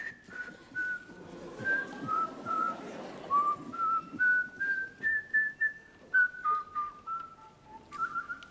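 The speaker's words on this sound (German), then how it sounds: "Geht das auch, dass Sie jetzt, sagen wir, mit mir zusammen pfeifen?" A person whistles a simple melody alone, clear piercing tones in short phrases with steady rhythm, some notes sliding between pitches, over faint room murmur.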